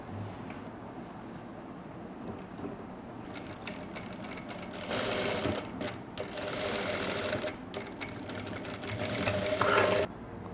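A sewing machine stitches the back neck of a simple saree blouse, quiet at first, then bursts of rapid whirring needle runs that grow louder toward the end.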